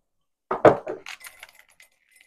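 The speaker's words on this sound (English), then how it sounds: "these are some coconut water cinnamon small ice cubes" A few small coconut water and cinnamon ice cubes clink and rattle into a glass in a short, bright burst, followed by faint scattered ticks as they settle, close and alone without talk.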